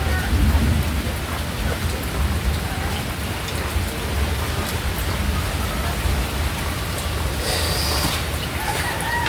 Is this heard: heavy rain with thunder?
yes